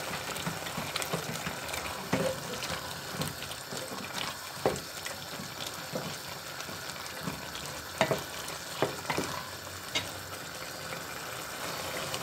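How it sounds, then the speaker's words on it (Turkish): A chicken and mushroom sauté with tomato paste fries in a pan, giving a continuous moderate sizzle broken by scattered stirring scrapes and small pops. "güzelce domates salçam da beraberinde kavrulsun"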